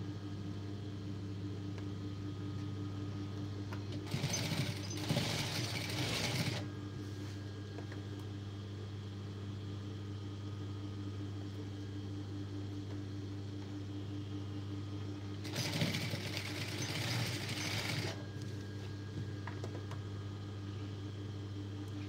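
Stitching piping onto a blouse back neck, a sewing machine runs in two separate bursts of about two seconds each, close and whirring, with a constant low hum and quiet gaps in between.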